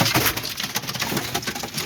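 Pigeons in a coop give soft, close cooing and rustling, with a steady flutter of movement and scratching under the calls.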